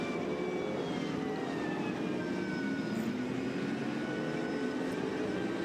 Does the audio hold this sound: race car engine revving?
yes